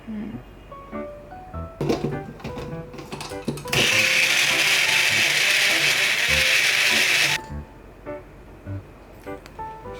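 A blender grinds milk-gum ingredients with lactose-free milk, a loud steady whir that runs about four seconds at close range, set between quieter kitchen clatter and intermittent talk.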